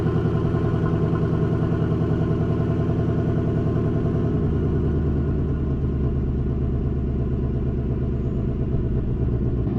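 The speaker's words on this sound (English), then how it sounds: "This thing actually sounds really good for a bone stock Coyote car." A bone-stock 2026 Ford Mustang GT with its Coyote V8 idles steadily while warming up, a close, continuous low rumble with a fast mechanical pulse that eases slightly partway through.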